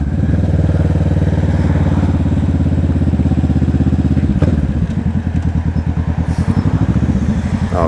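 Kawasaki Vulcan S 650 motorcycle fitted with a Two Brothers exhaust idles loudly up close, a deep rapid rhythmic burble that dips briefly mid-way, then settles back into its steady pulsing beat.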